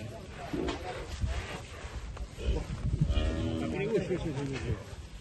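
Cattle at a cow contest in a pen-class show low, drawn-out moos amid crowd chatter and people talking nearby.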